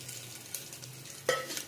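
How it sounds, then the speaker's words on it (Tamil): Spices frying in hot coconut oil in a pressure cooker, a faint soft crackle and sizzle with light stirring clinks and a sharper scrape partway through, low background hum throughout. "நல்லா பொரியட்டும்."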